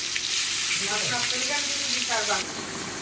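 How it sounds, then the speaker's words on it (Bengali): Fish fries in hot oil for a fish curry, giving a steady, close sizzle with a few bubbling, stirring sounds layered over it. "এখানে মাছগুলি বেজে নিলাম মাছের তরকারি বানানোর জন্য"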